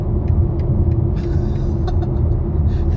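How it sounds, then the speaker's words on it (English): Turn-indicator ticks inside a 2023 BMW iX3 electric SUV on the move, faint regular clicks sitting over a steady low road rumble and cabin hum. "Listen, I'm going to put my indicator on."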